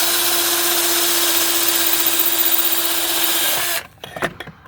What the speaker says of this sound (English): Drill it real good.